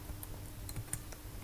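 Quick, light keystrokes on a computer keyboard while entering data into an Excel spreadsheet, a close, quiet flurry of clicks over a faint hum.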